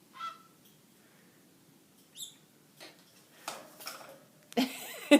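A bird gives a few short, scattered calls and squeaks with quiet pauses between them, ending in a louder burst of rustling and calling close by.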